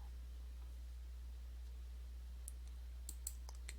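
Quiet computer mouse clicks during an Ubuntu installation, a few light, sharp ticks near the end over a low electrical hum and faint background hiss.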